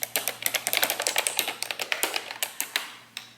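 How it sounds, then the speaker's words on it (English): Typing on a newly set-up, trendy computer keyboard: a quick, steady run of crisp key clicks at close range, each press distinct, with no talking over it. "I ordered one of those trendy keyboards and it came in, I guess, last night, and I just set it up this morning."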